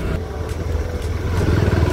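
A close motorbike engine grinds along a bumpy, broken mountain road, its steady drone growing slightly louder near the end, with no talk.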